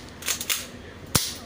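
A G&P airsoft shotgun fires one sharp, close crack near the end, with a couple of softer clicks and pumping sounds before it.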